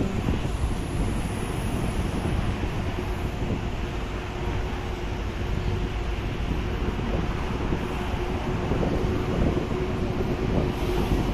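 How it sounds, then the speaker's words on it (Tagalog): Steady wind rushing at Victoria Harbour in Hong Kong, with a dense low roar buffeting the microphone throughout, alongside a faint droning hum from harbour traffic and no voices. "Sarap ng hangin, no?"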